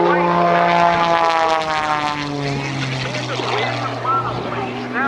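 Propeller aerobatic monoplane flying a hammerhead stall turnaround at an airshow, its engine droning steadily with strong harmonic tones that shift in pitch as it manoeuvres, loud and continuous under a commentator's voice.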